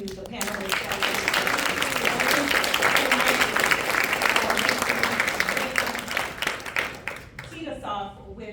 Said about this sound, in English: let's all give a round of applause to the panelists